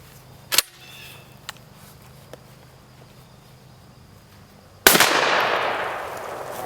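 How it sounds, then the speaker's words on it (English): A shotgun loaded with regular buckshot shells fires one loud, sharp blast outdoors, its report decaying over the following seconds, after faint earlier clicks and ambient noise. "To start with, we're going to shoot a regular buckshot"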